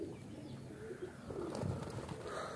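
Pigeons on a rooftop where young birds of three generations are kept give soft, low, rolling coos, faint against a quiet outdoor background.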